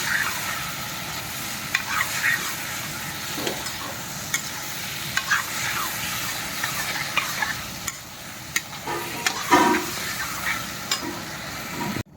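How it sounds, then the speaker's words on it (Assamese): Steady sizzling as potatoes and tomatoes fry in a pan, with occasional stirring scrapes and clinks throughout; no voices. "এই লগতে আলু দিলোঁ, আলু বিলাহী ভাজি আছোঁ লগতে"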